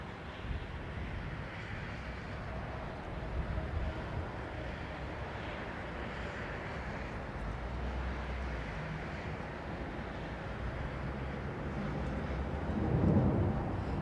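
An Emirates airliner arrives head-on at Heathrow with a steady, broad roar that swells slightly near the end. Wind buffets the microphone throughout, and no one speaks.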